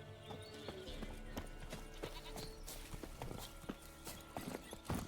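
Roach, the horse in The Witcher 3: Wild Hunt, moves at pace with rhythmic hoofbeats, fairly quiet and close, under a faint bed of ambient game sound.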